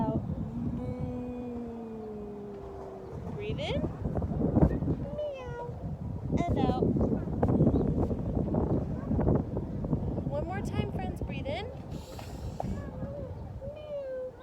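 Several people imitate cat meows in a group during an outdoor yoga class in a park, drawn-out voiced meows overlapping with breathing and soft background noise.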